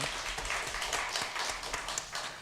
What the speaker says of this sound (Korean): 하나님 앞에 영광의 박수를 돌립니다.